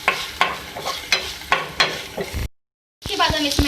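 Cabbage and vegetables frying in a pan for a chicken macaroni samosa filling, a close, steady sizzle broken by repeated scraping stirs, with a brief silent gap before the sizzling resumes.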